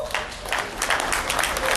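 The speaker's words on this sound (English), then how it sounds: "Give yourselves a round of applause." Audience at a Blair Witch Project cast reunion event clapping loudly for themselves, with brisk, dense applause that swells near the end.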